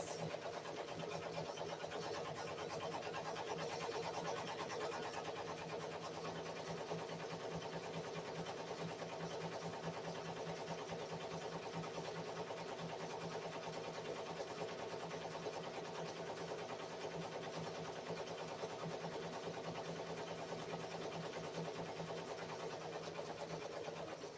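A Ricoma MT 1501 embroidery machine stitches a shirt, giving a continuous, even mechanical whirr and rapid needle chatter that holds steady throughout.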